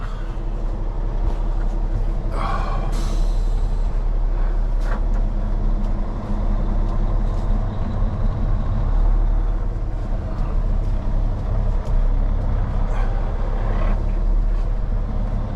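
A heavy truck engine strains in sticky mud, roaring steadily and loudly under load with a deep, continuous rumble and occasional mechanical clanks.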